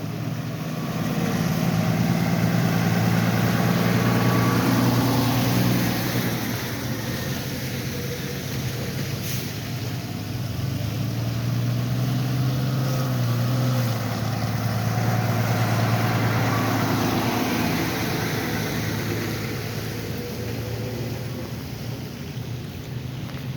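Boston fire apparatus, engines and a ladder truck, idle at a structure fire scene on Paine Street, a steady broad diesel rumble with wind noise as the rigs begin pulling away.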